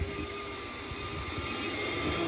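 An engine-driven air vacuum sucks water out of a flood-damaged car interior, giving a steady, loud, continuous roar with a sustained whine and no breaks.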